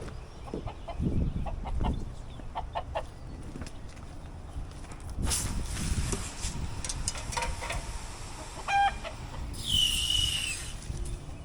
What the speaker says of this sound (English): This chicken just assaulted me again. It's vicious.